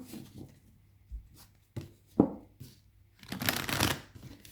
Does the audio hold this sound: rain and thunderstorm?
no